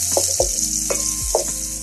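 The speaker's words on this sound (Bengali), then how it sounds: "তেলটা একটু গরম হয়ে আসলে সেটার মধ্যে আমি দিয়ে দিব পেঁয়াজ কুচি করে রাখা" Chopped onion frying in hot soybean oil for krolla, a steady close sizzle with a few sharp stirring clicks and scrapes against the pan.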